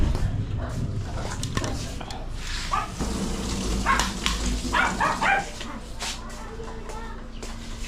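Several puppies bark and yap continuously at close range over a dense, noisy outdoor background.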